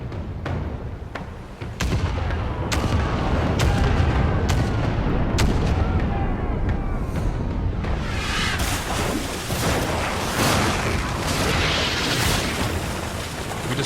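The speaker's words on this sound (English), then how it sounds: "Fire the port cannons." Ship cannons firing in the naval combat of Pillars of Eternity 2: Deadfire, a video game: a rapid series of loud booming shots with sharp attacks, then a denser rumbling barrage of blasts and crackling debris, continuous and heavy throughout.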